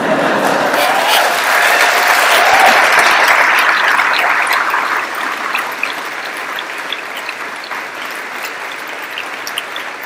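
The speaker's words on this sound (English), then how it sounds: "Never got that much applause before" An audience claps steadily after a scientific medal lecture, a dense, loud round of applause that swells and then gradually thins out over about ten seconds.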